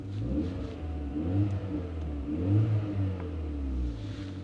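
A Volkswagen GTI engine runs close and fairly quiet, with a smooth low hum that swells and eases slightly in two gentle waves, no voices over it.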